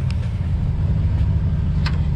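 A car engine runs steadily at a dealer-only auto auction in Oklahoma, a dense low rumble close by with faint background clatter and no talk over it.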